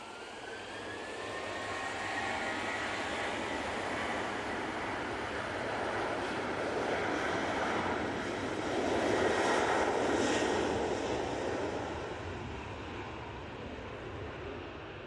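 Jet airliner rolling for takeoff at Manchester Airport, bound for Murcia: a steady, loud engine roar that builds and swells near the middle before easing off, broad and continuous with no voices.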